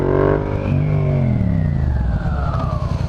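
A Yamaha FZ07 crossplane 700 motorcycle with a Yoshimura exhaust revving hard close by, a loud rising then sweeping engine note that falls away into a rumbling, throbbing exhaust burble.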